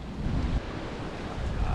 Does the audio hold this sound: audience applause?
no